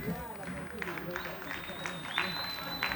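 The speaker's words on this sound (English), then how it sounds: "A big round of applause for the Kalingalinga youth." An audience applauds the Kalingalinga youth group at a community event against youth drug use. The clapping is a steady, noisy patter that lasts the full three seconds at moderate distance.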